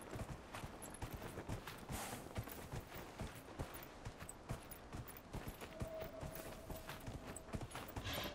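Horse hooves clip-clop in a steady walking rhythm in Dragon Age: Inquisition, fairly quiet and continuous, with the hollow clatter of each step repeating evenly.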